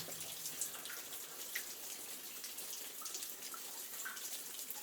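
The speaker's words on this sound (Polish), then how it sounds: "tu tak zwany deszcz jaskiniowy." Steady wash of falling water with scattered bright drips and splashes inside the Rycerska mine adit, echoing faintly; no voices.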